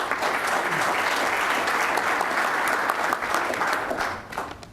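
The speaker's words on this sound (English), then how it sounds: "I can interpret the clapping as for you and me" An audience at a Johns Hopkins University formal welcome applauds steadily in a hall, dense and loud, then tapers off near the end, with no speech over it.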